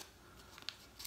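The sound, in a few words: tissue paper wrapper of razor blade being opened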